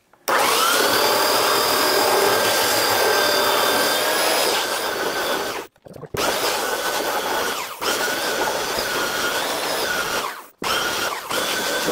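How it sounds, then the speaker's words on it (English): Pieces of a wooden cutting board being sanded by a power sander, a steady loud whine broken by two brief stops and restarts. "We're going to sand these pieces down while it's drying to save some time."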